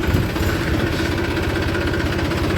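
A tractor engine idles steadily outdoors, a close, continuous low rumble with an even knocking pulse that runs without a break and carries no talking.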